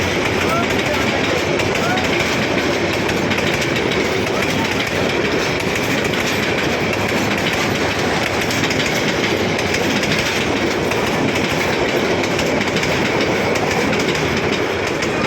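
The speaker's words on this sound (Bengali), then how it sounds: "নাঙ্গলকোট থেকে ট্রেন এসতেছে" A train pulling in from Nangalkot rumbles continuously at close range, with steady clickety-clack of wheels on rails and a dense wash of noise, while a crowd of people talks and shouts over it.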